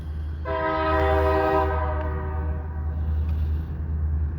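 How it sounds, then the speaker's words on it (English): BNSF freight locomotives working close by on a Midwest rail line, a loud sustained multi-tone horn blast for about two seconds over steady rumbling engine drone that continues after the horn stops. "Their locomotives like literally working right behind me right now."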